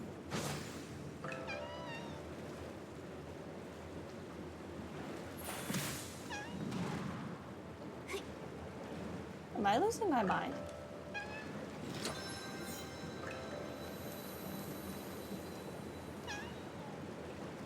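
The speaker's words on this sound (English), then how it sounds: "What cat keeps meowing?" A cat meowing in the video game Infinity Nikki, a couple of clear meows partway through, set against game ambience while a person talks now and then.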